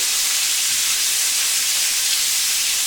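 Onions hiss and sizzle steadily in a hot pan, sautéed in the same pan used for the earlier feijoada meats; the frying noise is loud and continuous.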